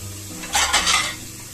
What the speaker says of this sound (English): I'm going to wash it because it has a lot of sand.